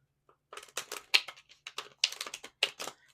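Tarot cards are shuffled in quick, crisp bursts of riffling and flicking, separated by short pauses in a quiet room.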